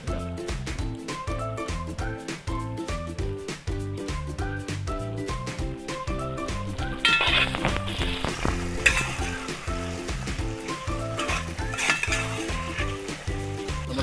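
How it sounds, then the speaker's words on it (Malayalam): Pork frying Kerala style in a pan with curry leaves, a steady sizzle with stirring scrapes that grows louder and hissier midway, mostly under prominent melodic background music. "പോർക്ക് ഇപ്പോൾ അത്യാവശ്യം ഫ്രൈ ആയിക്കൊണ്ടിരിക്കുകയാണ്."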